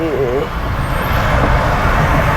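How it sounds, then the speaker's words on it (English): Berlin city-centre rush-hour traffic heard from inside a moving car; steady engine and road rumble with passing vehicles, a brief high tonal whine at the start. "Traffic is crazy."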